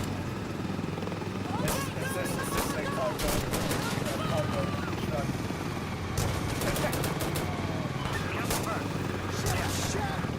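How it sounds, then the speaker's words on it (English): Rapid video-game gunfire with a fish used as the gun, popping in bursts over a dense, chaotic battle din with distant engine-like rumble, loud and continuous through the whole stretch. "Why am I using fish as a gun?"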